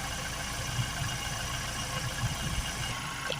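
A Ford Transit 2.0 MK8 engine idles at operating temperature during coolant radiator work, a steady close rumble with even low vibration and no talk.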